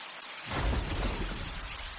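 Heavy rain with a low thunder rumble swells in after a quiet start, a steady dense wash at fairly high level, used as a sound effect in an animated Hindi story.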